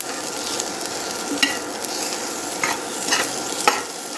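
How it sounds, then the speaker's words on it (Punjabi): A ladle stirs ground spices through cauliflower pickle in a pan, an even sizzling hiss broken by a few sharp scrapes and clinks of metal, close up with no voices. "ਕੜਛੀ ਦੀ ਹੈਲਪ ਦੇ ਨਾਲ ਆਪਾਂ ਚੰਗੀ ਤਰ੍ਹਾਂ ਜਿਹੜੇ ਮਸਾਲੇ ਆ ਸਾਰੇ ਮਿਕਸ ਕਰ ਦਿਆਂਗੇ ਵਿੱਚ ਗੋਭੀ ਦੇ"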